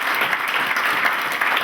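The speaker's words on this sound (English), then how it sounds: "Let's give them a round of applause." Audience applauding at the close of an event, a dense, steady burst of clapping filling the whole short moment.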